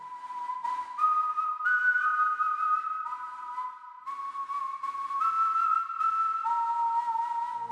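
Someone whistles an eerie, wavering tune meant to imitate a death whistle, with sliding high notes drifting up and down, clear and alone.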